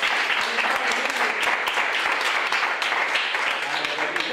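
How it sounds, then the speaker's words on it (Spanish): Group of children clapping after a gym session, steady dense applause mixed with crowd chatter, fairly close and even throughout. "Muy bien, un aplauso para todos"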